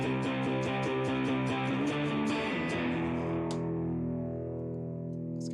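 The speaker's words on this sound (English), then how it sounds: "Now I put this distortion pedal on" A heavily distorted electric guitar, played through a distortion pedal, strums a riff, then lets a sustained chord ring out and slowly fade.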